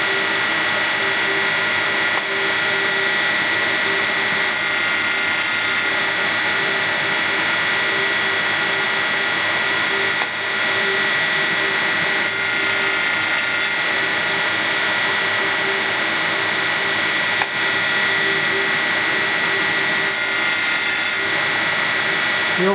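A Do-All machine drilling a deep hole in metal drones steadily and loudly for over twenty seconds, with periodic bright hissing bursts recurring every several seconds over the constant mechanical hum.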